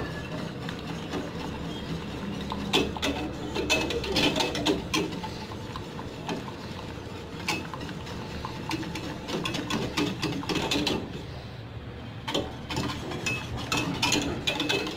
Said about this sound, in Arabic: غادي نخلط حتى تقال ليا الصلصه